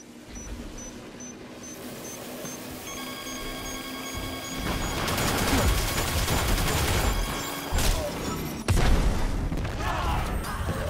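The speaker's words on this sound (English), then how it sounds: "Enemy detonated the charge." A charge detonates in the video game Destiny 2, heard as sharp broadband blasts, one bigger burst midway and another loud crack later, over a steady hum of game ambience and tonal effects.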